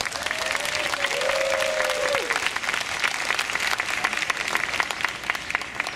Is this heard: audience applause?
yes